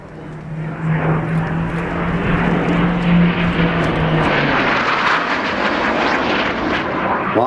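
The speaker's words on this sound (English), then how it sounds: "the most beautiful jet fighter designed by anybody at any time" A Hawker Hunter jet fighter passes at an airshow, a loud sustained engine roar with a steady droning rumble throughout, no voices present.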